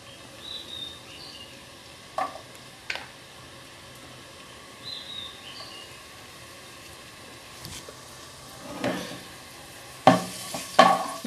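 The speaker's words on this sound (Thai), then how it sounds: "เราใส่น้ำมันลงไปแล้วนะคะ น้ำมันแล้วก็กระเทียม" Garlic fries in a small amount of oil in a pan, a faint background sizzle broken by occasional spatula scrapes and louder stirring clatters toward the end, with no voices.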